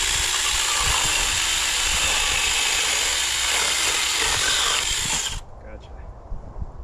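A saw cuts wood for a rocking chair built from dead trees, a loud, steady broadband rasp that runs for about five seconds and then stops abruptly, leaving quieter background noise.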